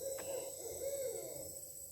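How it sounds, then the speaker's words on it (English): A barred owl hoots from a tree in a forest, a short series of mid-distance calls rising and falling over steady insect buzz, with no voices. "I just heard a barred owl."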